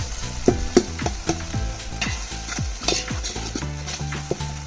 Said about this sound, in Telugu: 10 టమోటాలు తీసుకొని ఈ విధంగా ఆయిల్లో ఫ్రై చేస్తాము